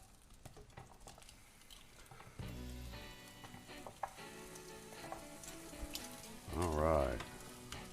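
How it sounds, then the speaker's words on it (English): Steaks and onion sizzle in a frying pan, a low steady hiss that turns louder and busier after the onion goes in, with metal tongs clicking and a brief spoken remark. "And this onion is to go in the pan with the steaks."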